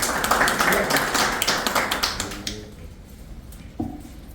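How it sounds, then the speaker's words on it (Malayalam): An audience applauds at a public function with Chandy Oommen MLA, dense clapping that fades out after a few seconds, leaving a few scattered claps. "കയ്യടിയാവാം."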